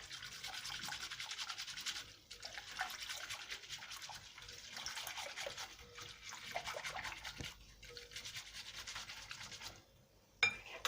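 Continuous scraping and swishing of a spoon stirring a pampushky dough mixture in a bowl until it dissolves, steady rubbing strokes with a brief louder clink near the end.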